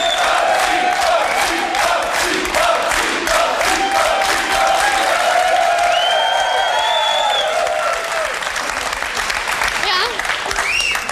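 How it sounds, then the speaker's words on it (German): A German TV talk show studio audience claps loudly and steadily, with scattered whoops and cheers rising above a dense wall of applause that continues throughout. "Das geht mir mächtig auf den Zeiger, wenn die mehr Beifall als ich kriege hier"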